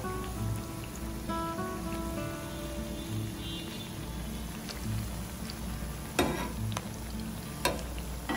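Jalebi batter fries in hot oil with a soft, steady bubbling crackle, punctuated by a few sharper spits and clicks toward the end, no talking.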